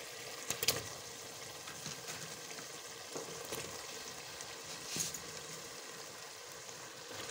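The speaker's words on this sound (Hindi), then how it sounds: "चिकन हमारा फ्राई हो गया। अब मैं इसमें गोभी डाल दूँगी।" Cauliflower added to fried chicken in a pan, giving a soft, steady sizzle with faint crackles and a few brief clinks, heard alone and fairly quiet.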